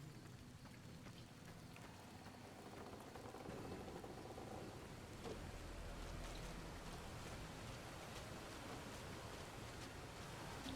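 Rain in the Fallout New Vegas video game pours down as a constant, dense hiss of drops that stays even and fairly quiet throughout, with no voices.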